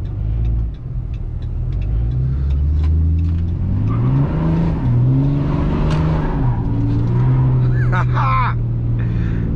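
A Dodge Ram pickup on 37-inch tires accelerates from a stop at a street corner and slides sideways, its deep engine rumble rising and shifting through revs close by, with a short tire screech near the end and someone talking over it.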